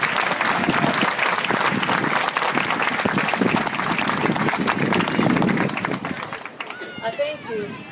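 An audience at a school anniversary picnic at the Science & Arts Academy claps loudly and steadily in sustained applause, tapering off near the end as voices begin to emerge.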